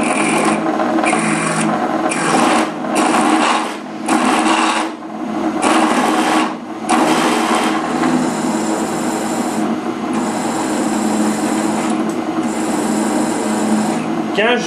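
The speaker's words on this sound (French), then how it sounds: "Maintenant, on est prêt à percer." A drill press runs a centre drill bit into metal, a continuous grinding, rasping rotation with uneven pulses as the bit is fed down and lifted, while someone talks over the machine throughout.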